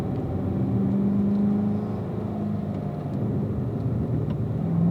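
A Corvette accelerates on a race track, a loud, steady engine drone that rises in pitch as the car builds speed, heard up close from inside or near the car.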